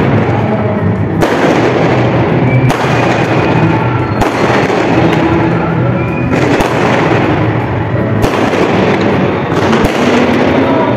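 Firecrackers crackle and bang nonstop on New Year's Eve, loud and close, with sharp bursts every second or so over a constant roar of popping.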